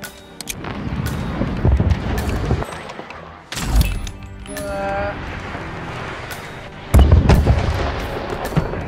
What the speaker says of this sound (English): Wants to trigger the fireworks himself.